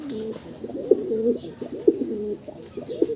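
Young fancy pigeons coo close by in soft, repeated throaty rolls, several calls in a row with brief swelling peaks, against a quiet background.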